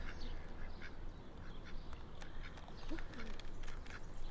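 Ducks quack repeatedly at a bird feeder, scattered calls mixed into steady background noise at moderate distance, with no talk.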